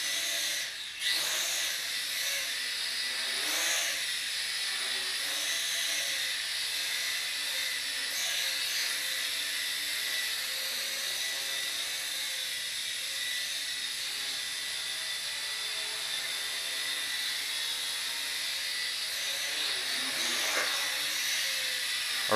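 A small Revell Ominus Dromida quadcopter flies indoors, its rotors giving a steady, high-pitched whining buzz that holds close and loud throughout with slight shifts in pitch.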